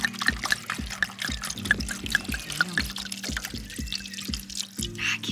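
Cheap Shiraz red wine glugging from a bottle into a cooking pot in a steady, rhythmic series of close gurgles, with faint speech around it.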